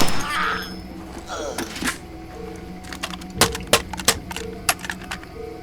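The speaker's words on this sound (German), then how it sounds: "Bumm, Ladehemmung." Gun jamming in the video game Far Cry 2: a burst of firing, then a series of sharp dry mechanical clicks and clacks, spaced unevenly, over quiet background game sound.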